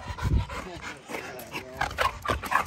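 A female kennel dog gives a series of short yips, whimpers and barks, irregular and fairly close, while people talk over it in the background.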